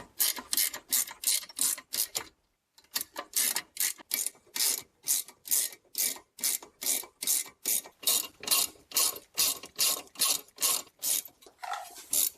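Rapid, even clicking of a ratchet tightening the front brake bolts on a 2008-2016 Smart Fortwo Passion, close and loud, running in steady bursts with one short pause.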